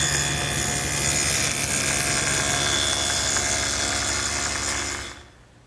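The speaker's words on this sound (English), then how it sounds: "I've got the table saw all set up with the dado head, and I'll make that top rabbet first." Table saw fitted with a dado head cutting a rabbet in pine, a loud, steady whining roar with low rumble that holds for about five seconds, then quickly spins down to quiet.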